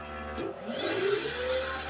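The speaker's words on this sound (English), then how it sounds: "So we're going to now hit the vacuum." A vacuum cleaner powered through a 3000 watt pure sine inverter starts up with a rising whir, then settles into a steady loud motor hum and hiss, heard close and alone.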